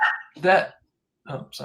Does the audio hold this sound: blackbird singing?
no